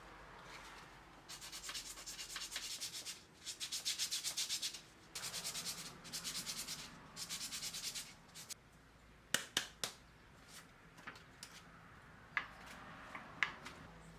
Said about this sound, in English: 220 grit sandpaper, and we're just gonna finish this off